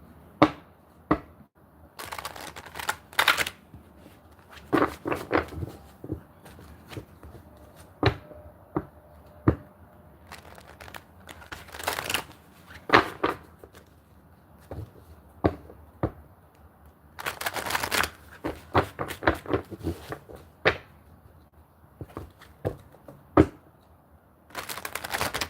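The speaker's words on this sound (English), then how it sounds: "I'm shuffling my cards" Crisp, irregular bursts of riffling and clicking, like cards being shuffled and bridged close up, with short quiet gaps between flurries.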